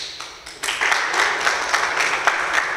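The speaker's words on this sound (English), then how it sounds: "So a great applause to Ahmed" Applause breaks out at a public event for Somaliland's national library, swelling into steady dense clapping after a quieter start and holding for a few seconds.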